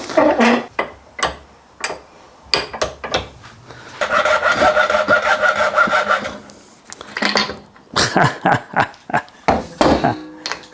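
A hand saw cuts through a concealed cistern flush pipe in rough, rasping strokes up close, with a run of quick steady strokes in the middle, broken by pauses, knocks and handling noises.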